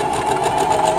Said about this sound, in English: lower the needle into the seam line. Lower the presser foot. Remember to backstitch.